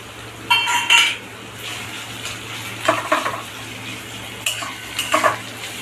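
Chopped ginger and green chilli lightly frying in oil: a few bursts of spatula scraping and clinking against the pan over a low, quiet sizzle and faint hum.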